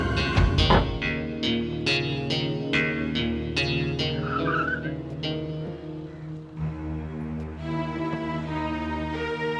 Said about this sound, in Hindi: जल्दी कार चलाओ भैया